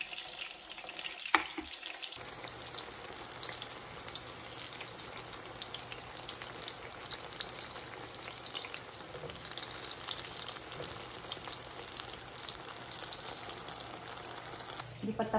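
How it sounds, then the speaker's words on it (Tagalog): Sliced eggplant frying in oil in a pan outdoors, a steady close sizzle and crackle running the whole time with a few small clatters near the start. "Yung talong ko, yan, nagprito pa."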